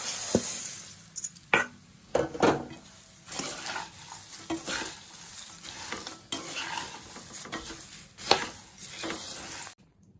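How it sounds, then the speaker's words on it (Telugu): Flattened rice (poha) is stirred into hot tempering in a pan with the stove off, for a Telugu atukula mixture. Close, irregular scraping and clattering strokes come with a faint sizzle, and no one speaks. "ఇలా వేపుకున్న ఈ తాలింపులో మనం ముందుగా వేసి పెట్టుకున్న అటుకులు వేసి కలుపుకుందాం."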